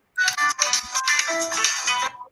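A mobile phone rings with a bright electronic melodic ringtone, loud and close, playing for about two seconds before cutting off.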